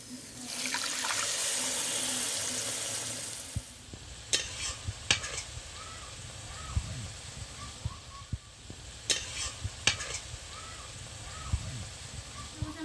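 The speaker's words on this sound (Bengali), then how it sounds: "সামান্য একটু জল দিয়ে কষিয়ে নেব" Rohu fish curry is sautéed in a pan with a splash of water, giving a soft sizzle and a watery hiss at first, followed by scattered scrapes and clinks as a spoon stirs, all fairly quiet.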